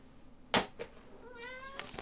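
Short, close cat meow with a rising, tonal call that lasts under a second, preceded by a sharp knock, in a quiet indoor room.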